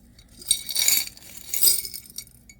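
Glass beads and costume jewelry from a thrift store jar clink and rattle as they are handled, with two bright bursts of small chiming contacts, close and moderately loud, and no talking.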